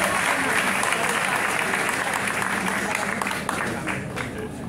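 Audience applauding students, dense sustained clapping from a large crowd heard up close, holding steady and easing slightly near the end.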